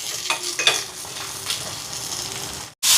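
Dried red chillies and onions sauté in a pan for a Jaffna fish curry, with a constant oily sizzle and a few sharp spoon scrapes and taps near the start, then a sudden brief cutoff before the sizzle returns loudly.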